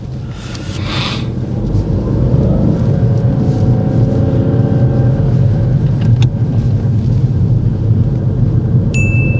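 A learner driver's car pulling away on a driving test, its engine note rising into a steady close low rumble with road and wind noise as it gathers speed.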